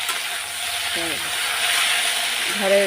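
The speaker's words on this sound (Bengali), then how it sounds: "আর এদিকে আলু ভাজা হচ্ছে।" Potatoes frying in a pan on a home stove, a steady broadband sizzle running throughout, with brief tonal clinks and a voice speaking briefly over it.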